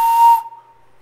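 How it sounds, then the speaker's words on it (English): Short high-pitched tone from a small handmade clay whistle, breathy and airy at the start, then cutting off quickly and leaving a faint ringing tail. "So when I blow on this one, you'll hear that it's a higher pitch than this bottom one."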